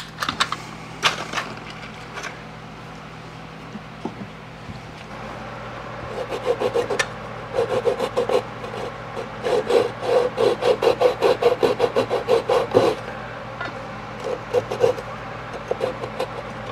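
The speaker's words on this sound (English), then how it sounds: "we want to cut a little groove in this to allow the cord to go through" A rough rasping cut into wooden furniture to make a groove for a cord, heard as a long run of fast, steady rubbing strokes that build up and then trail off, loud and close.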